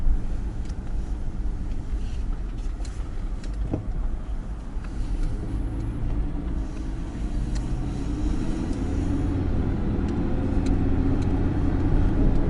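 A car makes a U-turn on a town street in Ellinwood, Kansas, and its engine and road noise hold a steady, even rumble throughout, with the engine swelling slightly toward the end, and no one speaks.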